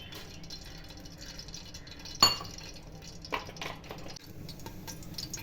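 Gingelly oil poured into a pot for Kongu-style biryani, a soft liquid trickle with a sharp metallic clink near the start and a few later knocks of the vessel, fairly quiet.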